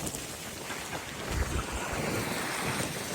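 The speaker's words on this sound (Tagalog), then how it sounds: "Sobrang lakas ng agos. Ng alon." Strong waves and current surging around a small fishing boat, with a steady wash of water and heavy wind buffeting the microphone, close and continuous.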